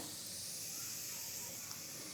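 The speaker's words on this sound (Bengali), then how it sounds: "ভেজে নেব ফোড়নটা" A steady, quiet sizzling hiss of a dried red chilli and black cumin frying in hot oil, running unbroken for a couple of seconds.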